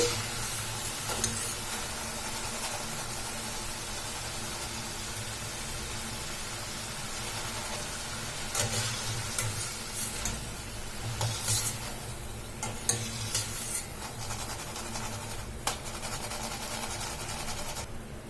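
Wheat flour bondas deep-fry in oil, a steady broad sizzle throughout with occasional clinks and scrapes from a utensil and a few louder bursts near the end. Nobody speaks.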